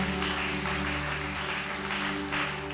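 A church congregation claps during a worship service, a dense steady patter of applause with a droning musical tone underneath, continuous and moderately loud.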